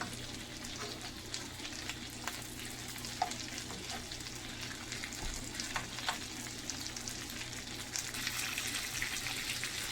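A lamb steak fries in a pan over low heat with a continuous, even sizzle and crackle, joined by occasional faint scraping or stirring noises.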